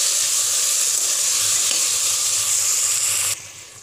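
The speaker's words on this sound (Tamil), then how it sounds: "தக்காளி சேர்த்து இதை நல்லா வதக்கி விட்டுக்கலாம்" Onion and tomato sautéing in a pan for double beans biryani, a steady loud sizzle and hiss that holds evenly, then drops sharply quieter near the end.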